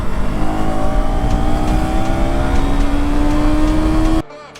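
KTM Duke 250 motorcycle engine under throttle, a loud close drone with a tone slowly climbing in pitch over several seconds before cutting off abruptly near the end.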